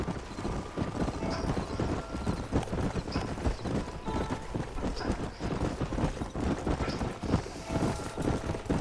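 Rapid, continuous hoofbeats of horses galloping in the video game Red Dead Redemption, a rhythmic clip-clop drumming throughout, with no clear neigh standing out.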